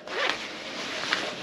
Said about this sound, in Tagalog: And zipper.